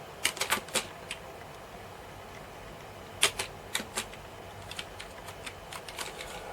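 Someone types on the keyboard of a NuXT XT computer, producing sharp, irregular keystroke clicks in short bursts over a low steady background hum.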